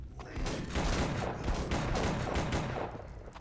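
Rapid bursts of automatic gunfire from an inaccurate weapon in the first-person game E.Y.E: Divine Cybermancy, loud and close, firing in a continuous rattling stream with a few short gaps and mechanical clatter.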